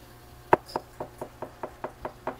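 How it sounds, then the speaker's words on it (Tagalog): Someone knocks repeatedly on a double-glass television screen: about nine sharp, hollow raps in an even rhythm, the first loudest, the rest slightly softer and close up. "Sir, pwede mo bang ipakita sa amin, sir, na pinupukpok mo talaga siya?"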